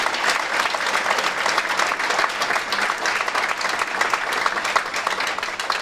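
A conference audience applauds, dense sustained clapping from many hands at moderate distance, even and unbroken throughout.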